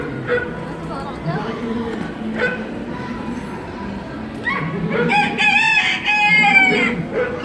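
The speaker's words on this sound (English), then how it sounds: "That's the rooster." Animatronic rooster crowing on the Epcot Living with the Land boat ride at Walt Disney World, a brief bright crow rising near the end over ride narration and background chatter.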